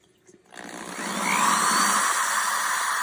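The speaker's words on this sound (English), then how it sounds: "now all I'm doing is I'm letting the drill do the work" After a brief quiet start, a power drill whirs up and holds a steady, high grinding whine as it bites into glass.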